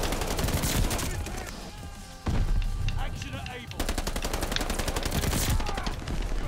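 Rapid bursts of gunfire from the video game Call of Duty Vanguard during an online match, dense and loud, with repeated volleys broken by a short pause, and occasional voice sounds underneath.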